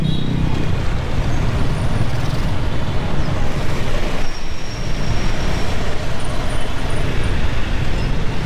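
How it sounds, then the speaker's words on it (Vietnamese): Road traffic is stuck in a jam on a street in Ho Chi Minh City, where a dense, continuous wash of engine noise and rumbling vehicles holds steadily loud and close throughout. "tới đây thì có vẻ như là kẹt xe rồi. Các phương tiện xếp hàng dài nối đuôi nhau."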